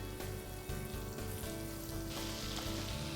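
A little oil and butter heating in a hot pan for a chicken pot pie filling, making a faint, continuous crackling sizzle with no break.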